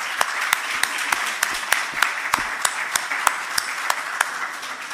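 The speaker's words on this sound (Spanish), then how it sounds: "Un aplauso, por favor, para Pato." An audience at a book fair claps in a steady rhythm of sharp, evenly spaced claps that carry on for the whole stretch at moderate loudness.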